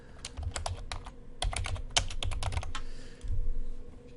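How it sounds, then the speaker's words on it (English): Someone types on a computer keyboard in a quiet room, a close, crisp flurry of key clicks in quick bursts with short pauses between them. "So if I just type somewhere on the document,"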